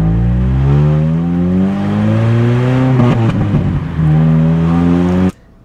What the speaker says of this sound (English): this is just all exhaust sound